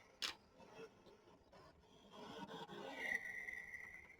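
Brother ScanNCut machine cutting out reindeer leg shapes, giving quiet mechanical whirring and light ticks that build into a rising motor whine, heard close in a quiet room.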